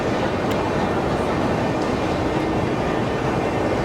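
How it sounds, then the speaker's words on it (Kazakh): A metro train passes through Alma-Atinskaya station in Moscow: a loud, steady rumbling roar that fills the whole stretch without a break. "Достар, ал қазір біз Алма-Атинская метро станциясындамыз."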